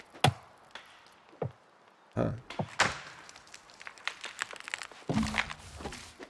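A chopped tree crashes to the ground in the New World video game. Sharp chopping thunks and heavy impacts are scattered irregularly, ending in a denser rumbling landing.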